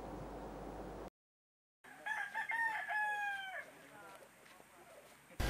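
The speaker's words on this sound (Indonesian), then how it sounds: "18 ekor ayam jago" Fighting roosters seized at a cockfight gambling site in Paso village, Ambon, Maluku: after a burst of noise and a silent gap, one rooster gives a long, clear crow over faint background bustle.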